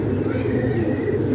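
Pigeon cooing softly close by, a low murmuring coo held over a dull background hum.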